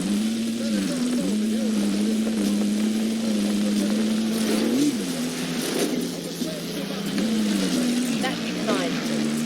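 A vehicle engine drones steadily in the Warzone video game, holding a low even pitch with brief rises as it accelerates while driving, under talk and in-game voice lines.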